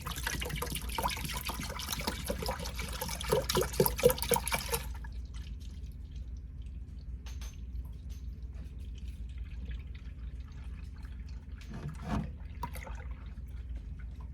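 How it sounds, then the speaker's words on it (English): Milk pours steadily into an Instant Pot for about five seconds, a dense splashing rush, then stops, leaving quiet room tone with a faint clink near the end. "you're going to open your milk and pour it right into the Instant Pot"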